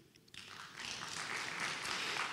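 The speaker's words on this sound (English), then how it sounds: "Give yourselves a round of applause if you're from the Faith and Freedom Foundation." Applause from an audience at a Faith and Freedom Foundation gathering rises after a brief quiet start, growing into a steady wash of clapping that stays fairly faint and distant.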